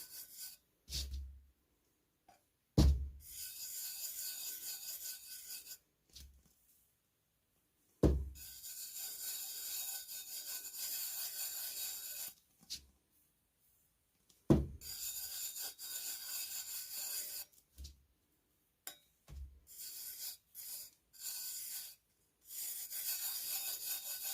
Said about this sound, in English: all you have to do is dump it on, and you're going to burnish it in